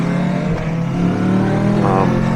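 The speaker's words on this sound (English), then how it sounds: "It's actually got a fun little engine in it, a fun little sort of temperament with it." Engine of a Kawasaki Versys 650 motorcycle running steadily at close range, a continuous mid-pitched drone with a slight rise in revs near the end, heard alone.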